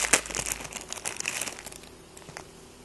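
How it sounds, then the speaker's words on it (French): Crinkly plastic packaging rustled and torn open to unwrap a Wootbox neck lanyard, a few close sharp crackles fading to quieter rustling. "Alors je vais déballer ça."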